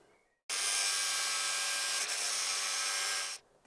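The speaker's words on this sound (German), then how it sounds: "nehmt eure Fahrradkette, wählt eure Wunschgröße aus, sägt sie erstmal auseinander in 2 Stücke" A bicycle chain is sawn in two with one sustained, loud, harsh cut that starts abruptly and stops about three seconds later, heard close with no talking.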